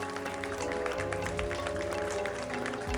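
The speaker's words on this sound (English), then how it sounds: "A round of applause for all the panelists" An audience applauds panelists at a plenary session of a directors' conclave, with dense, continuous clapping over a sustained musical tone for a few seconds.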